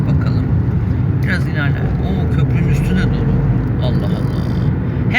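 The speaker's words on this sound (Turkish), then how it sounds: "herhalde bu pazartesi sabah trafiği" Monday morning road traffic in Istanbul makes a loud continuous rumble of car engines close by, with occasional passing vehicles, while someone talks over it.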